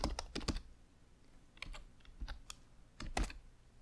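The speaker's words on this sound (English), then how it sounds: "we're just gonna type in view and type in airport" Close, quiet keystrokes on a computer keyboard come in short bursts of quick taps separated by brief pauses, with no talking.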